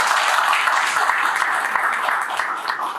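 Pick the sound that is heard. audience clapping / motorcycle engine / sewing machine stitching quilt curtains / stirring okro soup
audience clapping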